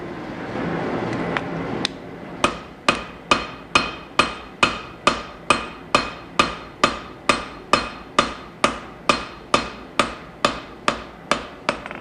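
Hammer blows forging a wootz steel knife, a long steady run of about twenty sharp, ringing strikes at an even rhythm, loud and close, with no voices.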